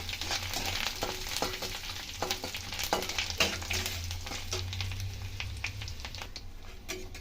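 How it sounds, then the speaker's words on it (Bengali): Eight to ten peanuts frying in a pan, a continuous close sizzle with repeated scraping taps of a spatula being stirred through, no voices. "বাদাম নিয়ে নিয়েছি, 8-10টা বাদাম দিয়ে দিলাম। ভেজে নেবো এটা।"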